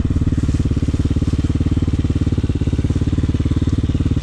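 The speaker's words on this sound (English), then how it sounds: "She sounds like she's idle up a little bit high today." A Hawk 250cc dual sport motorcycle idles slightly high, a loud, close, steady engine putter with a fast even pulse throughout.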